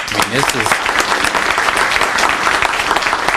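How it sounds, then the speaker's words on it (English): Loud, steady applause from a crowd at a 2015 legislative listening session, dense clapping filling the whole moment with a voice briefly audible at the start. "Can we give them a round of applause?"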